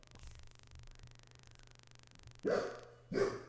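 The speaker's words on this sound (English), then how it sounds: "There's a dog barking outside." Two loud dog barks come near the end, following a low steady hum, sounding somewhat muffled as if from outside.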